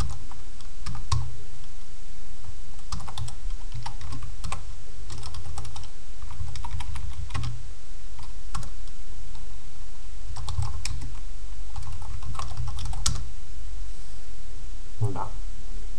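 Someone types code on a computer keyboard in irregular bursts of close, crisp key clicks with short pauses between them, and a low background hum runs throughout.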